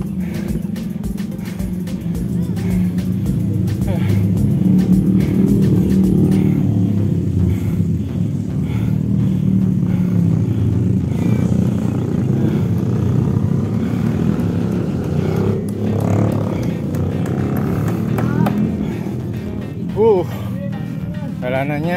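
A motorcycle carrying manure drones steadily nearby on a steep village lane, rumbling loudly for a long stretch before easing off toward the end.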